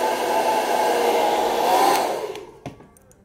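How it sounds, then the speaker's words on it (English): A blow dryer runs close and steady for a couple of seconds while drying freshly applied fiber lashes, then its whoosh fades out as it is switched off, with a brief tap at the end. "We're gonna hit it with the blow dryer one more time."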